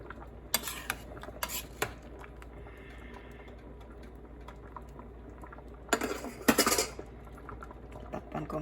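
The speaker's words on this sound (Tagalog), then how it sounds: "Bago ko siya haluin ng mabuti." Bilo-bilo in a cooking pot is stirred with a utensil, bursts of clinking and scraping against the pot between quieter stretches of low bubbling, close by.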